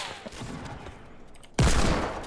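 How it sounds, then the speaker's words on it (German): Gunfire in the video game Fortnite Battle Royale: faint, scattered distant shots give way to a sudden loud, close burst of rapid fire that rings out and slowly decays. "Aus Süden, Osten werden wir auch beschossen."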